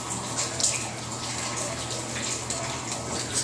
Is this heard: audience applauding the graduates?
no